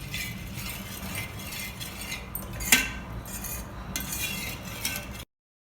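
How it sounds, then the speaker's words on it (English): A spoon stirs buttermilk into a millet health drink, with continuous close clinking and scraping against the vessel, one brighter clink midway, before the sound cuts to silence. "I am adding some buttermilk to this and mix this also very well."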